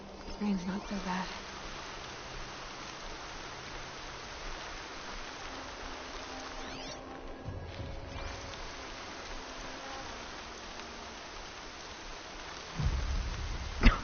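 Rain falls in a video game: an even, continuous hiss holds steady throughout, with a low rumble and a louder burst near the end.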